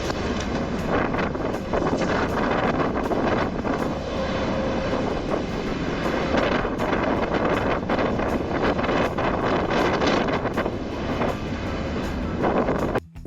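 Storm wind and rough waves out on open deep-water sea, heard from aboard a boat: a loud, steady roar of gusting wind buffeting the microphone over churning water, continuous throughout with no voices.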